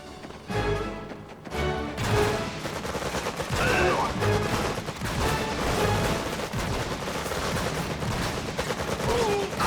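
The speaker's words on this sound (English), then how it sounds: "those enemy training robots fired upon the structure rather than directly at your peacekeepers" Enemy training robots firing on a structure in the real-time strategy game Red Alert 3: dense, continuous rattling gunfire with overlapping bursts, loud and close, mixed with game effects and a voice speaking partway through.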